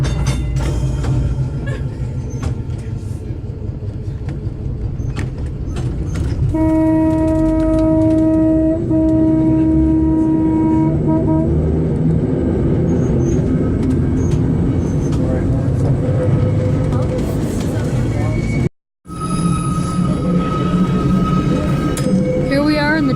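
Steady rumble and rattle of a trolley ride at Steamtown, heard from inside the car, with a humming tone rising partway through and a brief dropout near the end.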